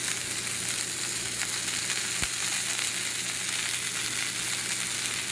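Food searing in a seasoned cast iron skillet, giving a constant loud, close sizzle with fine crackling and one sharp tick partway through, no talking.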